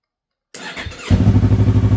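A motorcycle engine cranks and catches after a moment of silence, then settles into a loud, steady, close throbbing idle with a regular pulse.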